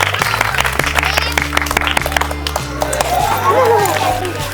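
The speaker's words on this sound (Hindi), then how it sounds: "चलिए एक बार ताली बजा दीजिए दो इनको लिए" Spectators at a village football challenge clap for the players, with brisk continuous applause over background music that thins out toward the end while a voice speaks.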